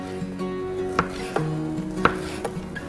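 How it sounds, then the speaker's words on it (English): A knife chopping an ingredient into small pieces for pizza meatloaf, a few distinct irregular chops on a board over a faint hum, close and moderately loud, no speech. "I'm gonna chop that up into real small pieces"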